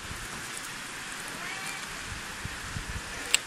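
Rain falling outdoors in a place with a wide view, a steady soft hiss of drops with a few sharper ticks near the end, heard alone without talk.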